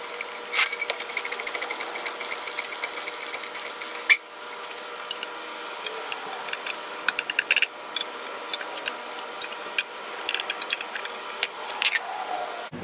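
A car jack lifts a Fiat 850 with a steady run of close, sharp ratcheting clicks and ticks that continue through the whole stretch, with no one talking.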